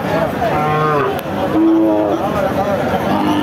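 A cow moos loudly twice nearby, long drawn-out lowing calls over a busy background of crowd chatter at the Chougachha cattle market.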